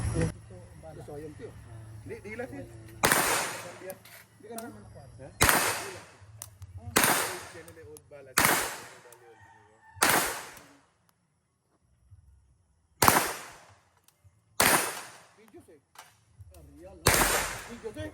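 Kalashnikov Saiga 9 fired outdoors, eight sharp, loud single shots spaced one to two seconds apart, each with a short ringing decay, with speech before the first shot and murmured voices between shots.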